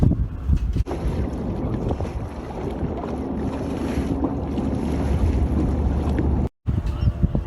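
A Contessa 26 sailboat under sail, with steady wind rush and water noise around the hull, loud and continuous with heavy wind buffeting on the microphone and a brief dropout near the end.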